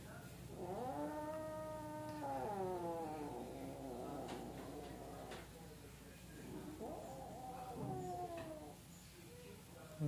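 A small kitten with a hunted skink lizard lets out long, close, drawn-out yowling meows, rising and falling in two main stretches over a quiet background.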